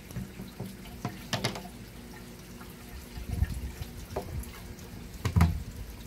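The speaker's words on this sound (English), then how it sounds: "then you use your stick and you stir it up" Water in a tower garden reservoir stirred with a stick, giving a few faint sloshing and splashing bursts in short irregular clusters against a quiet background.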